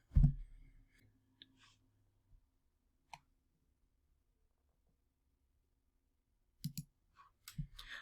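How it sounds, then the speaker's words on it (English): A computer mouse clicks a few times in a quiet room, with sparse isolated clicks and a short cluster of quick clicks toward the end. "So I'll go ahead and click on it."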